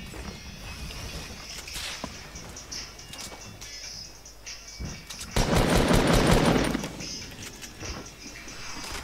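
Bursts of automatic gunfire in a Fortnite match, scattered sharp shots followed by a louder sustained volley at mid-distance, with a low game ambience throughout.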